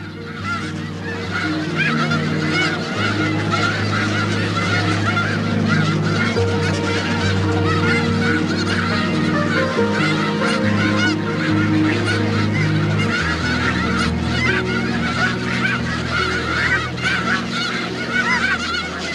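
A large flock of snow geese honks continuously, a dense, noisy chorus of overlapping calls that stays loud throughout.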